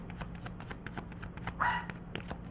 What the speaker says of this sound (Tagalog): may tumatahol na naman yung doggy ko